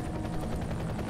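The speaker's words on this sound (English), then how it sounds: "You should have a visual on the evac chopper." Evac helicopter in a video game, a dense, steady rotor thump and engine roar filling the short stretch, loud and continuous with no talk.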